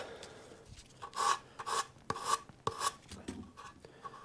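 Wood being sanded by hand on a Telecaster guitar body build, a series of rhythmic rasping strokes, close and fairly loud, with short pauses between them.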